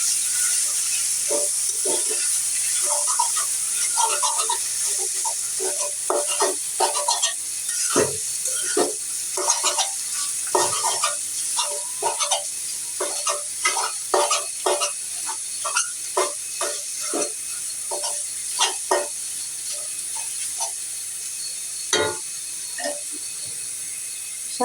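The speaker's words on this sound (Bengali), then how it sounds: "শাক ভাজি কিছু নাড়া দিয়ে দিল" Leafy greens (shak bhaji) being stir-fried in a pan: a steady soft sizzle carries repeated quick spatula scrapes and clicks at an uneven rhythm throughout, close and moderately loud, with no talking.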